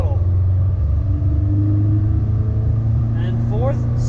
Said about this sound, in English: When you go to shift, you put the clutch in, shift up to third gear, let the clutch out, get on the throttle